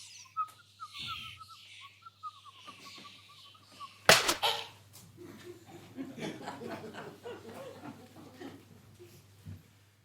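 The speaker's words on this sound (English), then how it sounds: "hear the nightingale record her notes" A nightingale sound effect for a full-cast audio drama trills and warbles in short phrases near the start, followed by a sharp burst and softer rustling movement and vocal bits later, moderately faint overall.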